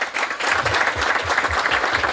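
Steady, dense applause from a crowd at a community meeting in Setor de Chácara Morro Azul, São Sebastião, runs loud and unbroken for the whole stretch, with no voices standing out.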